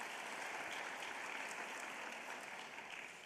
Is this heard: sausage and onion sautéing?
no